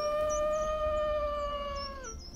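A wolf howls in the Wild Wolf simulator game: one long, steady, tonal howl with rich harmonics that holds for about two seconds and then drops and fades, heard alone over low game ambience.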